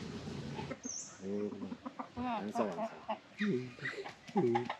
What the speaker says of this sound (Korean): 어디서 이렇게 닭 잡는 소리가 나?